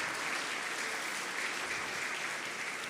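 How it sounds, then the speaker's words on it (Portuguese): A church congregation applauds during a sermon, a steady, moderately distant wash of many hands clapping that continues evenly throughout without a voice over it. "Vamos aplaudir o Senhor por isso?"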